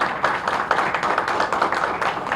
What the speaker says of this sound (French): Et je vous demande d'applaudir Madame Duxé